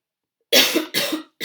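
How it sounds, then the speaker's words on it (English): Two close, sharp tickly coughs in quick succession, a third one starting at the end, from a woman alone in a quiet room. "Really tickly cough."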